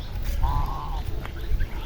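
Domestic ducks at a village home give a single drawn-out nasal call nearby against a low, steady rumble of background noise.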